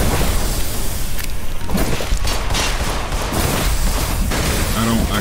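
Gunfire in the video game In Sound Mind: dense, continuous bursts of shots and booms filling the scene at a steady high loudness, with a player's voice talking over the chaos.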